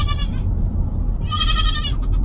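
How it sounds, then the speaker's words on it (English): A goat on a small farm gives two loud, nasal bleats close by, separated by a short pause, over a low rumbling background. "talk to someone we bought a goat from before, and well, I think you can hear what we have in the background"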